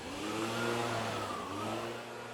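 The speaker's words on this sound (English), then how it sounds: "here's a little minivan coming" A small minivan approaches along a quiet road through thick jungle in hot weather, its mid-pitched engine rising as it nears, then holding a steady hum, close and moderately loud, with no talk over it.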